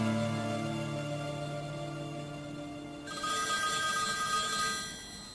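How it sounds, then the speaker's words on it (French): A telephone rings with steady tonal bell-like chimes, first in a lower pitched pattern and then switching to a brighter, higher ring partway through, clear and alone without speech. "Mon téléphone sonne."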